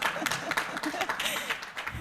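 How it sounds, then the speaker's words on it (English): Conference audience applause at the Future Ideas Conference, a short burst of scattered, moderately loud clapping with a voice talking over it. "I think he needs a bigger applause than that."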